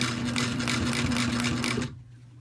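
A Sailrite 111 sewing machine topstitching, a loud close mechanical whir with a steady hum that runs without a break, then stops abruptly, leaving a quiet room.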